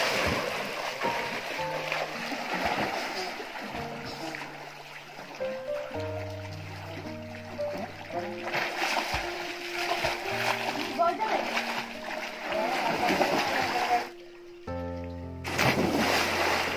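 Water splashing in a forest stream as people swim, irregular close splashes and trickling over the flowing current, with people talking and calling out throughout.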